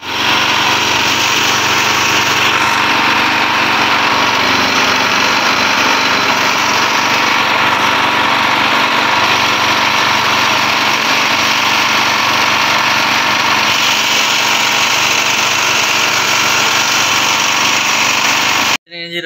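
A generator engine with a broken tip runs steadily at high revs, a loud, constant droning hum with buzzy vibration that holds unchanged for nearly the whole stretch before cutting off abruptly at the end.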